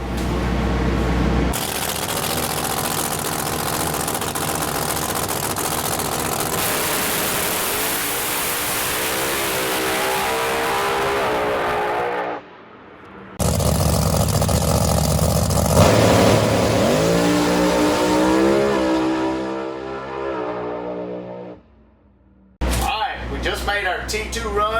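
A rebuilt NHRA drag race car on a post-crash test run roars loudly and close, its engine pitch climbing through long acceleration pulls broken by brief cut-offs, then another short blast at the end.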